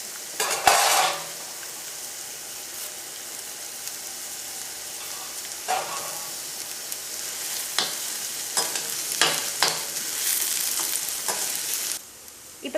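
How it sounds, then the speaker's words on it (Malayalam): Onion, ginger, green chili and curry leaves sauté in a pan for a Kerala fish masala, giving a continuous close sizzle with repeated spoon scrapes and metallic clinks and no voices. "പച്ചമുളകും വേപ്പിൻ്റെ ഇല ഇട്ടിട്ട് നമുക്കൊന്ന് വഴറ്റിയെടുക്കാം"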